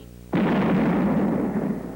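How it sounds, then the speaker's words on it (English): A sudden cartoon explosion bursts after a short quiet lead-in, a loud booming blast whose rumbling tail stays strong and slowly decays over a couple of seconds. "I thought I heard a noise like an explosion."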